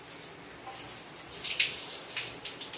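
Water runs from a shower in a steady hiss, brightening and splashing in short bursts as it strikes a body and surfaces nearby, with no talk over it.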